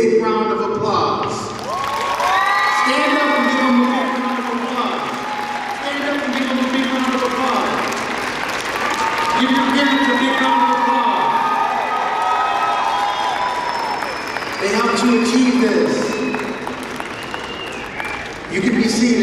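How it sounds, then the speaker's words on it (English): A large crowd at a Class of 2023 graduation ceremony applauds and cheers for a long stretch, with shouts, whoops and voices rising over the continuous clapping. "Class of 2023, give your parents a big round of applause."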